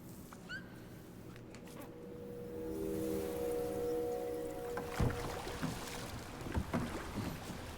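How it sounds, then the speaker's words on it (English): Gentle water lapping against boats at canal locks in the video game Jusant, a soft continuous wash with a low hum and a few sharper knocks and splashes toward the end. "The sound of water lapping up against a boat."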